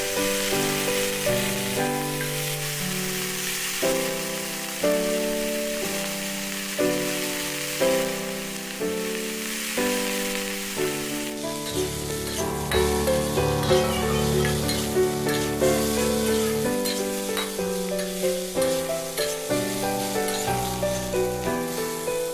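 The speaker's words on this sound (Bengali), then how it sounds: "প্রথমে কড়াইতে তেল দিয়ে পটলটাকে আমি নুন দিয়ে ভালো করে ভেজে নিচ্ছি।" Steady sizzling of pointed gourd frying in oil with salt in a kadhai runs throughout, under loud background music.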